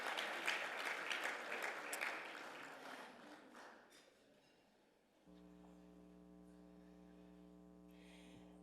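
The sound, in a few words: audience applause at Hall of Fame ceremony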